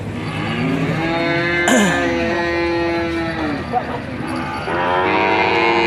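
Several cattle moo loudly and at length, long drawn-out bellows overlapping one another, with a busy crowd murmur underneath.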